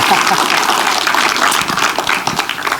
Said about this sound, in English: Give a round of applause for my wife